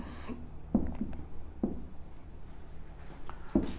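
Marker or chalk scratches across a board in short strokes, with a few sharp taps between them, heard faintly in a quiet classroom during a physics lesson.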